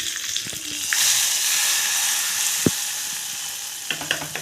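Curry leaves and crushed asafoetida crackling and sizzling in hot oil for a tempering over cabbage and chana dal kootu, a steady frying hiss with a sharp pop near the middle and light clinks of a spoon toward the end.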